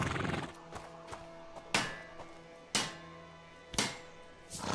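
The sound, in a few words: horse neighing in video game A Plague Tale: Innocence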